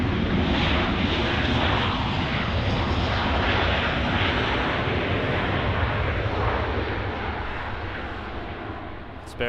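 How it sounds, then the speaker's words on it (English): An Airbus A380 departing runway 24 left at LAX roars with a loud, broad jet engine rumble that stays heavy throughout, then gradually fades as it moves away. "Another departure here on runway 24 left on the north side of LAX."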